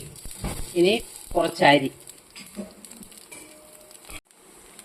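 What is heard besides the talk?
mustard seeds crackling in hot coconut oil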